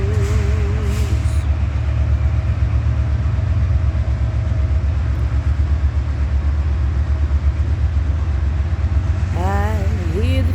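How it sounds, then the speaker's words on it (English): A train passes with a steady, loud rumble and rhythmic clatter that lasts the whole stretch. Brief faint voices are heard near the start and end. "I hear the train coming."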